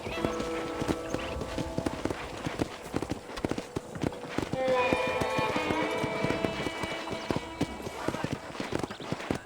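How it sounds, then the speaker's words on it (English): Horse hooves clip-clop steadily in the Red Dead Redemption video game, a fast, even gallop close by, mixed with background music and a voice speaking over it. "I picked out a fine horse for you."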